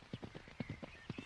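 A horse's hooves clip-clop at an easy walking pace, a regular run of about ten hollow knocks, fairly close but quiet, with no voices over them.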